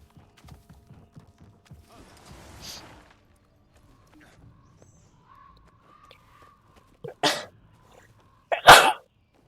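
A single sneeze in a Guild Wars 2 game scene bursts out sharply near the end, loud and close, after a short build-up, with quiet footsteps and faint game sounds before it.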